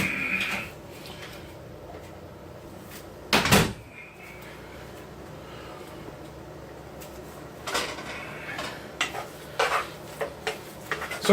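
Rice and beans being plated in a home kitchen, with scattered clinks and knocks of dishes and utensils, one louder clatter early on and a cluster of sharp taps near the end against quiet room noise.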